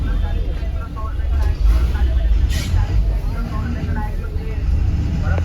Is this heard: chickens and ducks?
no